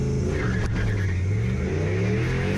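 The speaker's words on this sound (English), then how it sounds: "A good launch and lots of wheel spin" A turbocharged 1UZ V8 drag race car launches at a drag strip with wheel spin, its engine roaring loud and close in a continuous deep rumble as it pulls away.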